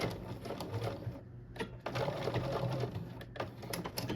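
A sewing machine stitches through vinyl for a geometric hoodie, running in a steady, fast mechanical whir with a brief pause midway before resuming, close and moderately quiet with sharp needle clicks throughout.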